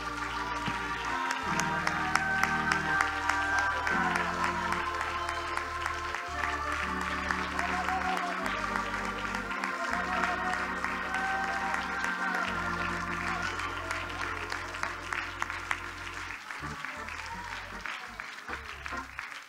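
A church congregation claps their hands through a lively worship song, a continuous dense patter of clapping over music with a few voices calling out.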